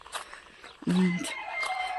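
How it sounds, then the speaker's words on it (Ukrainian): A rooster crows once, loud and close, amid scattered clucking from chickens nearby, in a farmyard where the chickens have just been fed and let out, early morning before seven. "Вже курей погодували, повипускали, все хазяйство вже гуляє."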